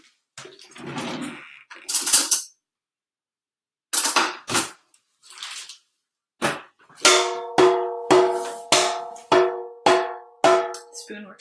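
A metal spoon strikes a homemade instrument about seven times in a steady rhythm, each hit ringing with a clear pitched tone that fades, after a few brighter rattling taps earlier on.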